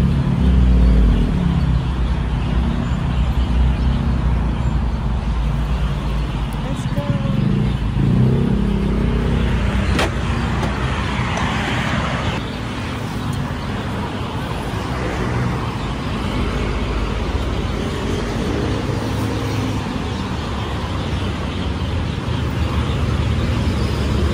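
A bus or songthaew speeding along a road in Thailand, its engine and road rumble droning steadily and loudly throughout, with a brief sharp knock partway through.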